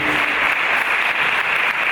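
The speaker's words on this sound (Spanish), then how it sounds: "os pido un aplauso para Ángel, Carlos, Ramón y Joaquín" Audience at a youth debate on the 1978 Spanish Constitution and the Transition applauds the participating students, steady dense clapping from a crowd filling the whole moment without pause.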